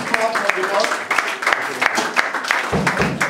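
A church congregation claps loudly and steadily in praise of the Lord, a dense run of applause with voices talking and calling out over it.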